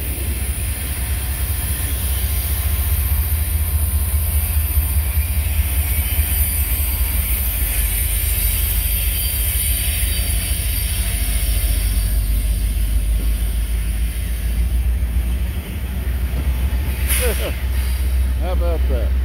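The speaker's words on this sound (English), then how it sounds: "we've got a train meet at the tower." Two freight trains meet at a railroad tower, one led by a Norfolk Southern 4000 running as a distributed power unit, a steady loud rumble of passing rail cars and engine drone lasting throughout, with a horn-like tone near the end.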